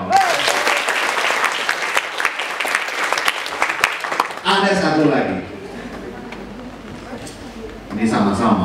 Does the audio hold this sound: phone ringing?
no